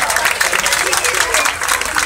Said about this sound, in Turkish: Alkış çocuklarımıza.